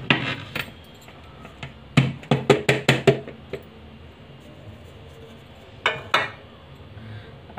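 Metal and ceramic clinks ring out as a plate is set onto a cake tin holding an eggless chocolate marble cake to flip it: a quick burst of close, sharp rattling taps, then a couple more knocks after a pause.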